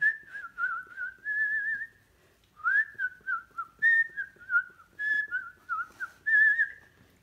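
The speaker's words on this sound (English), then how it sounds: "I could whistle while I work" A person whistles a bright, wavering tune in short phrases with brief pauses between them, close and clear against a quiet background.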